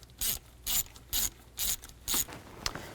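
A ratchet loosens intake manifold bolts on a 2000-2006 Chevy Tahoe, five even bursts of rapid clicking repeating at a steady pace, close and clear with no talk over them.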